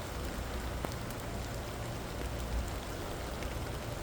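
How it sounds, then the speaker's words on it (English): Steady rain falling on an outdoor surface, a dense even hiss with scattered droplet ticks, continuous and fairly close with no talk. "It's raining."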